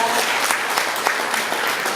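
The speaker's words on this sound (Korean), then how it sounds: "여러분 박수 한번 부탁드릴게요." Audience applause at a civic citizens' innovation town-hall debate in Pocheon, a steady dense patter of many hands clapping for about two seconds, moderately loud and without speech.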